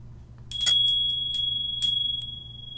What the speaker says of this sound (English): Got my little bell.